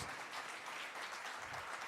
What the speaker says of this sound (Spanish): Damos un fuerte aplauso a nuestros hermanos.